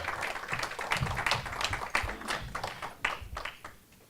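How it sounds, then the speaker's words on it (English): An audience at an evening event applauds steadily, clapping continuously at moderate loudness and tapering off at the close, with no speech over it. "Let's give Neil and George a round of applause."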